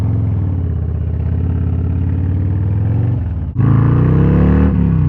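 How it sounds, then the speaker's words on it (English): Harley-Davidson Road Glide ST motorcycle with a Sawicki Speed exhaust, loud and close, idling with a deep throbbing rumble before a sharp throttle blip surges into a heavier roar midway through. "We got this beautiful sounding exhaust."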